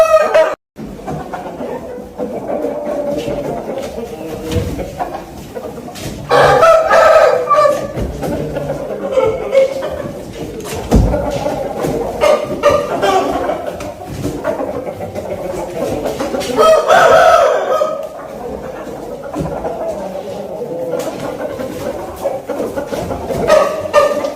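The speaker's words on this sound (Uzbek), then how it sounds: "Tomosha qilib ham mazza qiladigan xo'rozni" Fighting roosters at a cockfight in Kyrgyzstan crow and cluck repeatedly over a noisy crowd, the calls loud and near, rising in several bursts across the long stretch while people talk around them.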